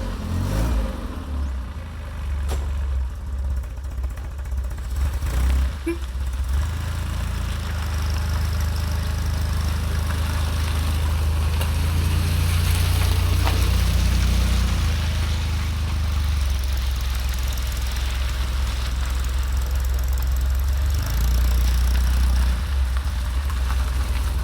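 A Standard Atlas pick-up's engine runs steadily throughout a low-speed turning circle manoeuvre, a continuous close rumble that idles and swells slightly with throttle, with no talk.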